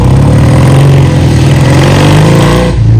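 A Triumph motorcycle engine runs loud and close at a factory service area, a steady throbbing rev held for a few seconds before dropping slightly at the end.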